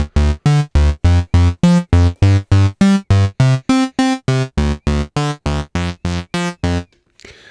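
Dave Smith Instruments Pro 2 synthesizer sequencer playing a steady pattern of short, evenly spaced notes at shifting pitches, loud and close with no voices, ending in a brief quiet tail.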